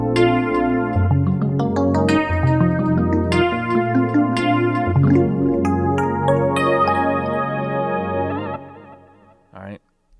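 A resampled electric piano sound from the MPC Key Standard Digital expansion plays a sequence of warm, chorused chords and bright bell-like notes, loud and close, with a long fading tail and a final short note.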